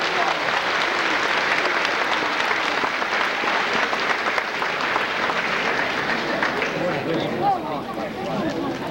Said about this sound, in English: I'd like you to give these two young people another applause for that flight.